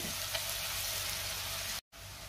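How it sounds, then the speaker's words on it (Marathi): Onion sautés in a pan for pav bhaji, giving a steady, close sizzle and crackle throughout with one brief break near the end and no speech. "कांदा आपल्याला 1 मिनिटभर परतून घ्यायचा आहे, जास्त परतायचा नाही कांदा, फक्त 1 मिनिट मी परतून घेणार आहे कांदा।"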